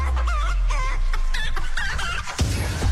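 Chicken clucking sound effect played on a radio podcast, a run of loud, rhythmic bok-bok clucks with squawky rising tones over a steady low background, ending in a sharper burst.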